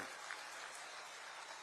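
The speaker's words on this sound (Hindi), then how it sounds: "एक बार जोर से ताली बजा दो राजू भैया के लिए भाई" A crowd applauds at an Amit Shah political rally in Mainpuri, India, a dense steady wash of clapping from many hands sounding alone with no voices.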